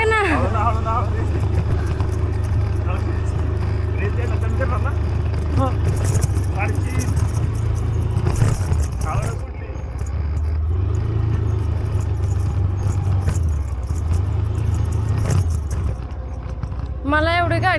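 A Scooty scooter's engine runs with a steady low drone for the whole stretch, close by and fairly loud, while people talk over it.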